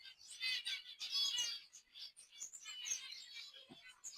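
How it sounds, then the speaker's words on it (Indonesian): Green munias (bondol hijau) chirp rapidly in overlapping high, thin calls, fairly faint and continuous, with brief pauses between clusters. "burung bondol ijo ini tuh,"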